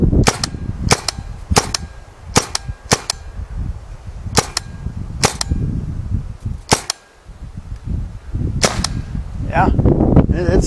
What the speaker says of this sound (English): Wow. It's a really good shooting gun.